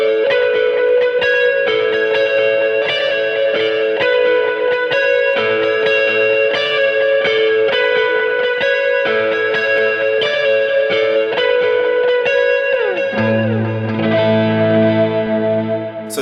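An electric guitar with reverb and dotted-eighth and quarter-note delays plays a shimmering, echoing melodic line of repeating notes, with a lower sustained chord swelling in near the end.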